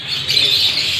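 Lovebirds and pied doves in breeding pairs give off a steady wash of faint, overlapping chirps and tweets, with a low rumble of room noise underneath and no talking.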